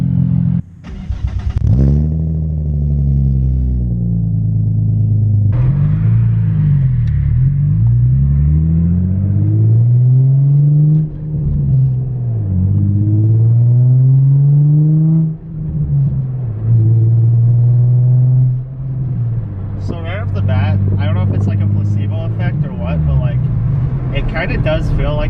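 A Nissan 350Z / G35 engine starts from cold with a brief starter crank, then settles into a loud, deep idle with wavering rpm, close by; a voice speaks briefly near the end.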